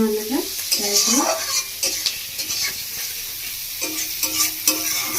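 A fish roe mixture frying in a pan with coriander leaves scattered in, a constant sizzle broken by repeated scraping stirs, with faint tonal sounds underneath.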